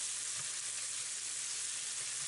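Tomatoes and onions fry in a pan with a pinch of salt, giving a steady, close, continuous sizzle and crackle with a few soft stirring bumps and no talking.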